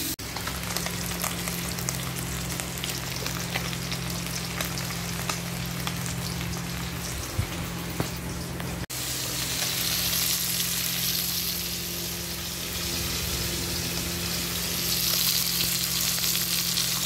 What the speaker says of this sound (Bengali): বন্ধুরা এই যে কাঁকড়া মাছটাকে এবার একটু ভাজা করছি।